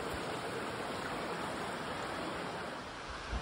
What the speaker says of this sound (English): With the water right underneath us.